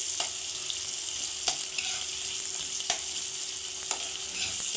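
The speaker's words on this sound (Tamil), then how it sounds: "வெங்காயத்தை கொஞ்சம் ஜாக்கிரதையாக போடுங்க வீடியோ எடுக்கும்போது எண்ணெய் மேலே தெரிச்சிட போது" Chopped onions fry in hot oil for a stingray fish curry, giving a steady, close sizzle with a few sharp stirring clicks and no voices.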